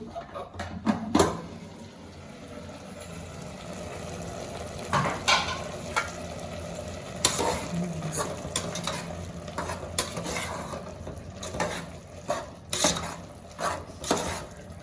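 Tomatoes sautéing in a pan for tomato rice, with a low steady sizzle under repeated scraping and stirring strokes of a spoon against the pan, plus occasional sharper clinks of utensils on metal.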